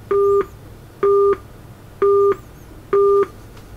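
Four evenly spaced dual-tone beeps sound as a passcode is entered on a Samsung Gear S3 watch. Each tone lasts about a third of a second, heard loud and clear over a faint background hum.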